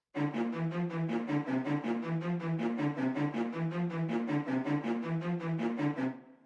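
Short, rapid staccato cello notes repeat in a steady driving rhythm, bright and close, with no voices, ending abruptly after about six seconds.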